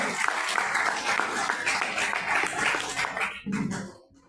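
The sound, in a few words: audience applause in temple gathering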